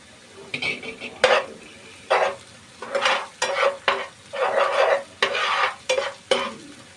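Ginger-garlic paste frying with onions in a pan for Surti egg ghotalo: close, repeated bursts of spatula stirring and scraping over a crackling sizzle, in an uneven rhythm with short pauses, and no talk.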